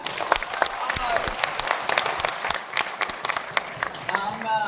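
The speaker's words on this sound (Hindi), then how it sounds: "तो आप सभी के लिए भी एक जोरदार तालियां।" Enthusiastic audience applause at a corporate gathering, a crowd clapping loudly with sharp individual claps standing out, a few voices and shouts mixed in over the steady roar.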